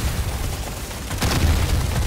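A grenade explosion in the Deep Rock Galactic video game, carrying an increased blast radius: a loud, broad burst partway through, with rumbling low-end game noise before and after it.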